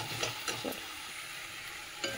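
Spices with cumin powder sautéing in a hot pan, a soft steady sizzle with a few brief scraping stirs near the start and end of the short stretch, no talk.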